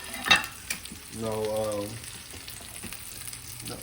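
Steelhead trout and asparagus sizzle steadily in a hot pan, a close, continuous frying hiss with a sharp clatter near the start and a brief tonal whine in the middle.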